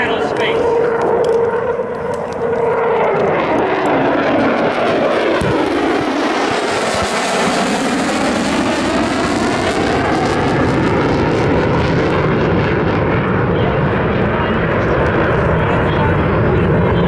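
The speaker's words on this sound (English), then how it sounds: "you will now see a two-ship of F-35s depart the battle space" Two F-35 fighter jets departing a National Guard demonstration at EAA AirVenture Oshkosh, a loud, sustained engine roar with a sweeping pass as they move away, an announcer talking over it.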